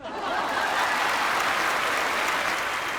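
On a Hindi family game show, a studio audience breaks into loud, dense, continuous applause that stays steady throughout.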